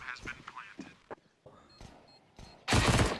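Tech-9 pistol fire in a Counter-Strike match at ESL One New York 2017, with rapid shots in short bursts, the loudest burst at the end, mixed with a commentator talking over the game.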